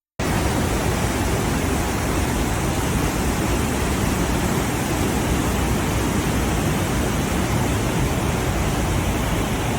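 A river rushes beside a trekking trail near Tsho Rolpa glacier lake in Dolakha, Nepal. Its steady, dense roar continues without a break, loud and close, with no voices.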